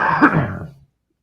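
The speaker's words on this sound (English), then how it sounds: "My medicine's got me coughing here." A single short, harsh cough, close and loud, lasting under a second before silence.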